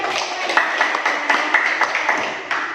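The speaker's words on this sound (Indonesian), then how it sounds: "kasih tepuk tangan" A class of students claps together in a quick, steady rhythm, the claps loud and close with a roomy classroom echo.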